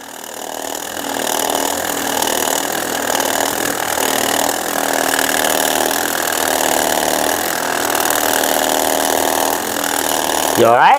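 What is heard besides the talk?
percussion massage gun running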